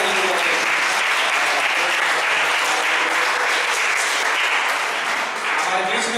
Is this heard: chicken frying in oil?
no